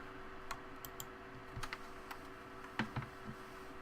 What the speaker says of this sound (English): hopefully get to hear smacking of keyboards